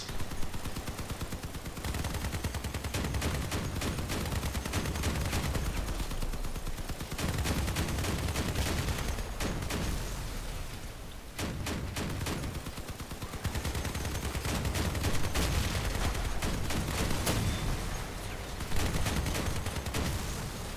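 Rapid, continuous bursts of heavy gunfire-like booms and clatter, layered and dense throughout, from the cannons of a giant tank build firing in the game Crossout.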